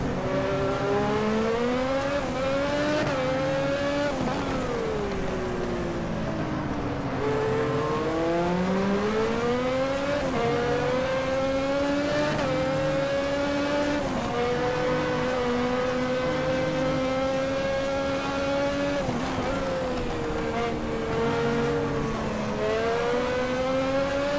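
A Formula Classic race car engine in a video game at the Jerez circuit, loud and constant, rising and falling in pitch as it revs through gear changes, with no talk over it.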